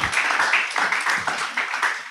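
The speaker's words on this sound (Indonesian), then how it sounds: "Tepuk tangan dong semua buat kok buat Ozra dan Tifare." Audience applause at a church talk session on dating, a dense steady patter of many hands clapping close by for the whole stretch, with no voices over it.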